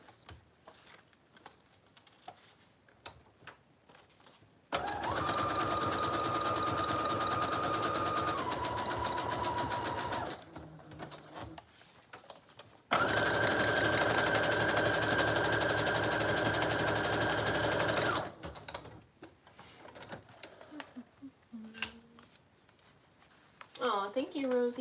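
A sewing machine stitches lace onto a French journal cover in two long, steady runs of about five seconds each, with quieter handling noises between and around them.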